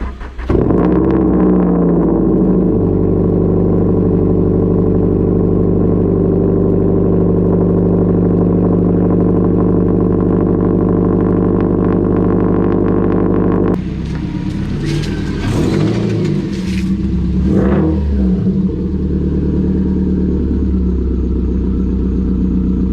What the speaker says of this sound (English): I want to bless your eardrums with the beautiful sound of a fully straight piped STI cold start